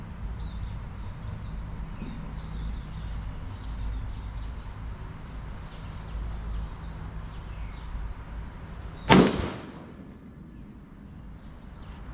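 A single sharp Colt M4 5.56 rifle shot cracks out at a 25 m range, loud and close, after a stretch of quiet outdoor ambience, followed by a brief fading echo.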